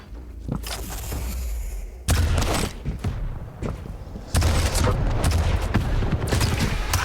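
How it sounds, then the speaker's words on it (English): Rocket, railgun and lightning gun fire in Quake Pro League play rings out in loud, rapid volleys. Sharp shots, heavy thumps and chattering bursts arrive in quick clusters, close and dense, with no talking. "all of the shots we're actually seeing coming out, no matter if it's rocket, rail, or LG, it's all just hitting"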